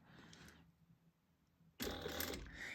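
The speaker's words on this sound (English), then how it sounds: "we're going to sew this at 1/8 of an inch, and we're going to sew as much as we can" A sewing machine stitches a bag seam at an eighth of an inch in two short runs, a faint whir that stops and then restarts louder and close-up, with no talking.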